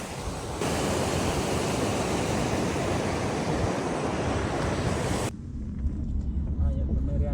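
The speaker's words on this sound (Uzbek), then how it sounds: "Mana bunaqa tabiat qo'ynida yoningizdan shunaqa suv oqib turadi." Stream water rushes steadily beside a mountain spot near the village of Chodak, a continuous close hiss and gurgle that holds for several seconds before dropping to a quieter, more distant flow.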